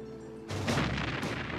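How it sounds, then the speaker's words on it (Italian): A heavy boom of cannon fire bursts out abruptly during the naval battle of Lepanto, loud and rumbling, with a second blast-like surge following soon after over a sustained roar. "E la battaglia iniziò al tuono dei cannoni."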